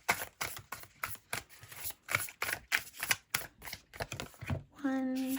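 Tarot cards are shuffled in a steady run of papery riffles and slaps, close and fairly quiet, ending with a brief tonal hum.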